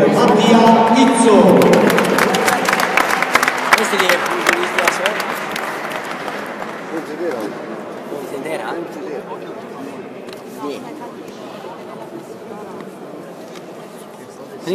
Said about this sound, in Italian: All'angolo rosso, per la box Pontedera, pubblico un applauso per Mattia Izzo.